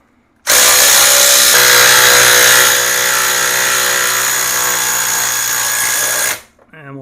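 A power tool whines loud and steady for about six seconds as it removes the kickstand from a Lifan KPX 250 motorcycle, its pitch dropping slightly partway through before it stops abruptly.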